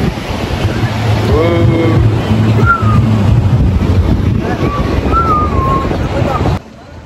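Ocean surf washes onto a beach in Goa, a loud, steady roar of waves and wind buffeting close to the microphone, with voices talking over it before it cuts off abruptly near the end.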